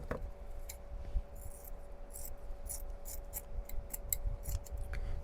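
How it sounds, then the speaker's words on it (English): Scissors snip through glittery rainbow tulle in a series of short, crisp cuts spread over several seconds, close and fairly quiet against a steady low background hum. "There's my scissors."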